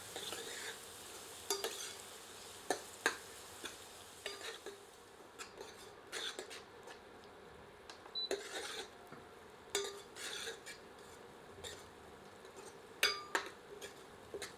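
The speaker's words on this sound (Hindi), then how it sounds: "आंच मध्यम कर देते हैं और प्याज को तब तक भूनते हैं जब तक कि प्याज सुनहरे रंग में परिवर्तित नहीं हो जाती" Onions frying and being stirred in a pan over medium heat while cooking saag, with a steady soft sizzle broken by repeated sharp clinks and scrapes of a spoon against the pan.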